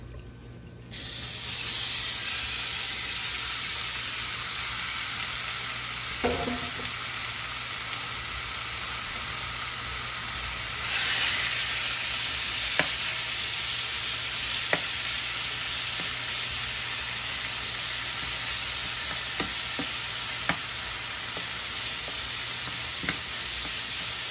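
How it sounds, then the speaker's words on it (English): After a brief quiet moment, loud sizzling bursts up as chicken is poured into a hot frying pan, then continues as a steady hiss with occasional pops and clicks. "this is the pan that we're gonna be using to cook this chicken in"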